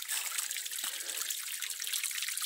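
Rainwater runs and trickles steadily after heavy rains at a rural property in Bahia, a loud, close, continuous splashing flow heard alone.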